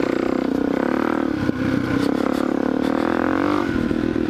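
A Kawasaki KLX470 dirt bike ridden through open desert, its engine droning loudly and steadily with a rich, throaty tone and a brief dip in the middle before pulling on again.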